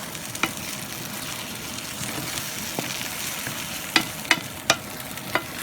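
Scrambled eggs cook in butter in a pan with a steady close sizzle, broken by a few soft clicks and scrapes of stirring.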